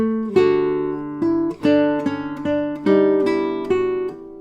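A classical guitar plays a short melodic phrase from Carcassi's Larghetto, plucked notes at an even, moderate pace without a grace note, clear and close, with no talking.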